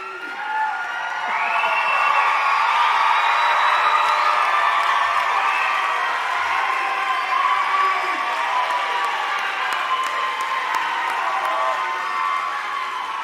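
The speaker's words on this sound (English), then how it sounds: "please give yourself a round of applause for making it here today and celebrating with us" A large crowd at a youth academy cadet graduation ceremony cheering and applauding, a continuous roar of whoops and voices over clapping, steady and loud throughout.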